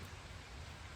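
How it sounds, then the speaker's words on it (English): Steady rain drumming on the tin roof of a shed beside a barn on a cold night, a continuous soft hiss and patter heard alone at low level. "It's raining. I'm sure you can hear it in the background, hitting the tin roof of the shed."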